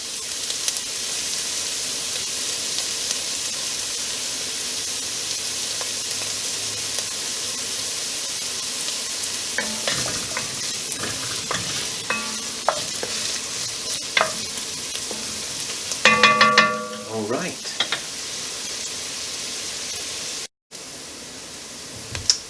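Beef shoulder pieces sizzle in butter in a pan, a steady close hiss with clusters of sharper crackles and spatters partway through, then a brief cut before the frying resumes; no one talks.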